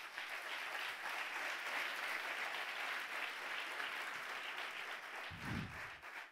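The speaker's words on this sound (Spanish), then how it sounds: "Un aplauso fuerte a Jesús." A church congregation applauds with sustained, even clapping at a fairly low level, a steady rain of many hands that keeps going until a brief low thump near the end.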